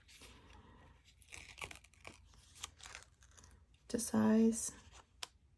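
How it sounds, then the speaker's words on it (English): Scissors cutting strips of washi tape to size for a Hobonichi Weeks planner spread, a short burst of crisp snipping and rustling close by, with speech before it. "I'm looking at the bottom washi. I think I will use these and cut them"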